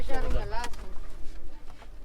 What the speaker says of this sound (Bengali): এখানে দেখতেছি কবুতরের খোপ আছে আবার দেশি বিদেশি অনেক